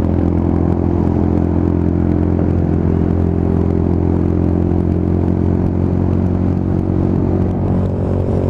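A Lexmoto Tempest GT 125 motorcycle engine and exhaust rumble loud and close, holding a steady, dense drone throughout with no talking.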